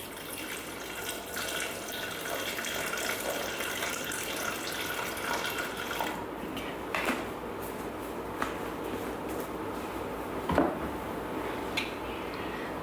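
Water pours steadily into a Thermomix bowl for a cooking recipe, a continuous broadband gushing and splashing at moderate-to-faint level with a few small clinks, no talk.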